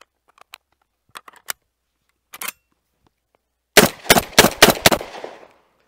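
A shotgun, the Black Aces Tactical Core 12, fires Royal Rio see-through buckshot shells in a rapid string of five loud, close blasts, preceded by scattered handling clicks and clacks.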